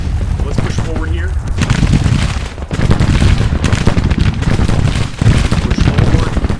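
Civil War battle in the strategy game Grand Tactician: dense crackling musket volleys and booming artillery roll on continuously, loud and layered, with brief lulls between bursts.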